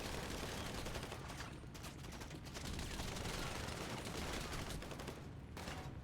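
Rapid gunfire from a GTA role-play shootout crackles continuously at a steady loud level, dense overlapping shots with no talking.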